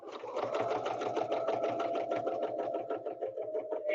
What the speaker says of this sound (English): I'm going to stitch until I get to the circle and then I'm going to stop.